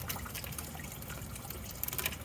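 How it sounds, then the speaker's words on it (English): Coolant trickles and dribbles steadily out of a Toyota Prius Gen3 engine during a head-gasket-related engine swap, a close, continuous wet splatter with a few sharper drips near the end. "A little bit of coolant right there too, still comes out."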